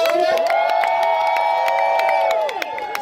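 A downtown Los Angeles crowd at a Pride performance by an impersonator cheers loudly, with sustained high screams, whoops and scattered clapping that fill the whole stretch before tapering slightly at the end.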